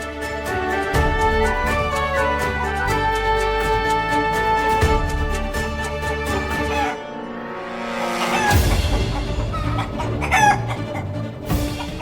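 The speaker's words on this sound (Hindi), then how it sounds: "मुर्गे की आवाज" Roosters crow repeatedly inside a house, loud and close, with overlapping calls and clucking layered over a dense musical score in a Hindi TV drama scene.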